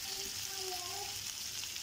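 Tandoori chicken pieces sizzle and fry steadily in a pan on a gas stove, a continuous close crackle with a faint scrape as the pieces are turned over.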